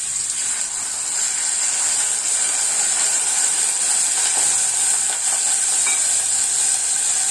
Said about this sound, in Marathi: ते आता मी तुपात टाकून भाजणार आहे